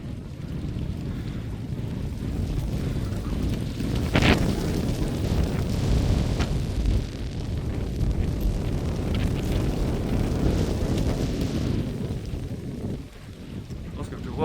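Strong wind roars continuously through trees during a storm in Isère, France, rising and falling in rushing gusts with a deep, blustery rumble.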